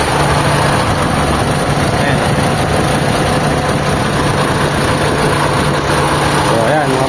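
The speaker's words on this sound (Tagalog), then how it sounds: "yun yung andar ng makina natin" A freshly overhauled Mitsubishi Lancer engine idles with a steady, low, droning hum and constant mechanical noise, heard close up, with a voice talking faintly over it.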